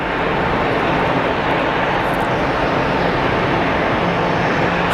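A fixed-wing airliner takes off at Geneva Airport, its engines a loud, steady roar that fills the whole stretch without a break.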